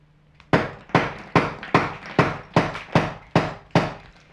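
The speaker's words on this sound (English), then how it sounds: "is to begin to chisel away the plaster" A steel chisel pounded with a hammer along a scored line to channel out wall plaster over lath for electrical work, nine sharp, evenly spaced blows with crumbling ring-outs, close and loud.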